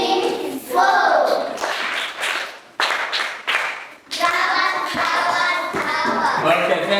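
Children in a classroom clap in bursts of rhythmic hand claps, close and loud with short gaps between, while young voices speak over and between the claps after a multiplication lesson.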